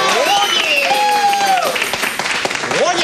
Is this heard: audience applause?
yes